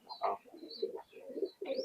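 A pair of teddy pigeons coo in soft repeated rolling phrases, close and clear, with brief pauses between calls.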